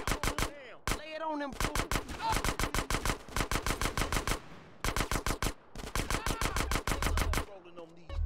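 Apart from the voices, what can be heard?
gunfire in the video game GTA San Andreas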